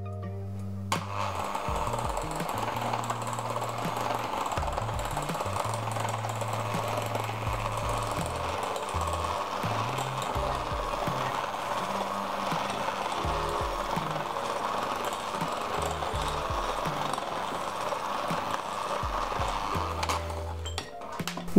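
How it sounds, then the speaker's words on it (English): An electric mixer running on low while mixing chocolate sheet cake batter, a steady whirring hum with a beating low pulse that stays even throughout, fairly faint and close. "And then you want to just mix shortly on low."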